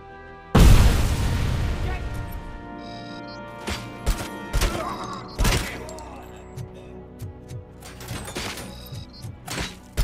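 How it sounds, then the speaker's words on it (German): A grenade explodes in the RoboCop: Rogue City video game with a loud, sudden boom, followed by a run of sharper bangs, thuds and debris impacts of decreasing loudness. "Granate."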